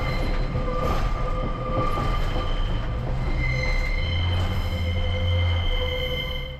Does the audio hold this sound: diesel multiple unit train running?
yes